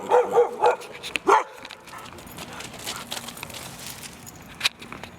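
A dog barks in a quick series of sharp, fairly close barks at the start, then quieter outdoor ambience follows with a faint knock near the end.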